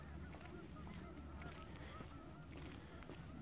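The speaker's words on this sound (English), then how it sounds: "Here's some geese on the way up." Faint, distant geese honking over a steady low rumble at Lake Galena, Pennsylvania, the calls scattered and soft.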